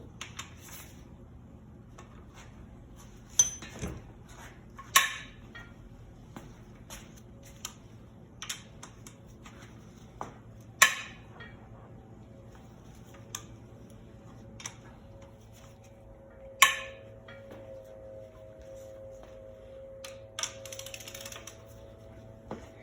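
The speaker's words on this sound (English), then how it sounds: "See the ratchet? Hear the ratchet? A ratchet on a breaker bar is really handy." Ratchet on a breaker bar clicking in short bursts while loosening cylinder head bolts on a Dodge/Chrysler 2.7 liter engine, with several sharp, fairly close clicks spread over a quiet background with a low steady hum.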